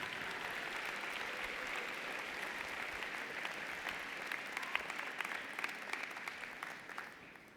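Sustained applause for graduating student leaders at a university engineering spring commencement ceremony, a dense, fairly distant wash of clapping from a large crowd lasting throughout with a few sharper individual claps.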